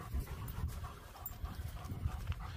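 Rapid, rhythmic panting from German Shepherd and Staffordshire terrier dogs close by, a quiet steady huffing with no voices.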